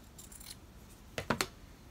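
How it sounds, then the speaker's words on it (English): Scissors snipping the selvage off quilting cotton for a tablemat, a quick cluster of three close, crisp cuts after faint earlier snips. "Oop, I didn't cut off the selvage."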